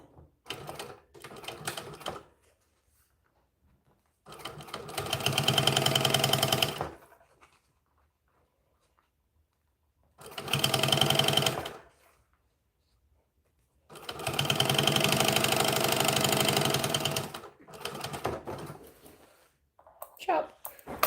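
Sewing machine stitching fabric in bursts of a few seconds each, loud and close, with short pauses between runs and a person talking briefly in the gaps.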